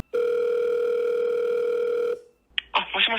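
A steady telephone tone sounds for about two seconds while a call is being placed. It cuts off, a brief click follows, and then a voice speaks.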